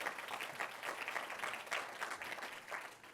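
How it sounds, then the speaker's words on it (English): A lecture audience applauds together in a sustained, even burst of clapping throughout, fairly distant and moderately quiet, with no one speaking over it. "Yeah, you can clap for Valentino."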